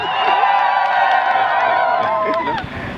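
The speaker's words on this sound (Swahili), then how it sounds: "mpigeni makofi mengi sana" A crowd cheers and shouts loudly with sustained whooping voices, clapping mixed in, steady throughout before tapering slightly at the end.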